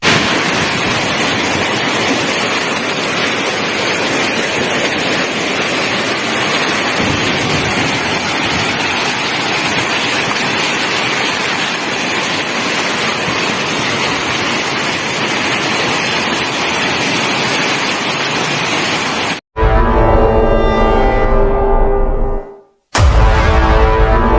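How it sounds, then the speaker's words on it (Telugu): Streams overflowing after heavy rain in Tamil Nadu make a loud, steady rushing roar of water, broken by a brief abrupt cut close to the end. "వంకలు పొంగిపొర్లుతున్నాయి"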